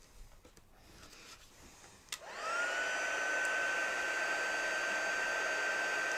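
A hair dryer switches on after a couple of quiet seconds and then blows steadily, used to heat-set craft material; the motor rises quickly to a loud, constant whine and whoosh close by.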